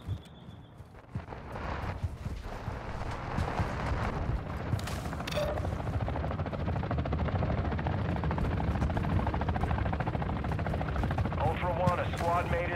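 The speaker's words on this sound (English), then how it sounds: "You are taking effective fire." Gunfire during a Warzone 2 DMZ match, rapid shots over a constant helicopter-like rotor drone, with radio voices talking throughout.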